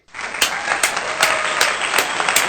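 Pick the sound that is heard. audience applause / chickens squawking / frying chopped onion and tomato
audience applause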